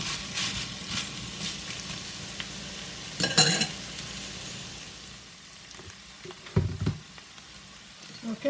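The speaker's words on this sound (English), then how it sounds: "I'm going to further cook that for about 3 to 5 minutes to make sure all the seasoning and all the flavors mixing together" Chicken roll filling frying with seasoning in a pan gives a steady close sizzle, with louder bursts of spatter and stirring scrapes now and then, and no voices.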